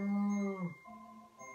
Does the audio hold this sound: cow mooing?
yes